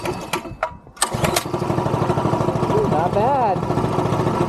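A Mega Moto 80 minibike engine runs on choke with a steady, rough, shaking putter close by, while a voice speaks briefly over it near the start.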